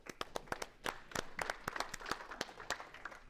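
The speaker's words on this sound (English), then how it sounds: "Let's give him a round of applause." A small crowd at a business livestream event gives a round of applause, sharp, separate claps from a few people building into a scattered patter, fairly quiet and close.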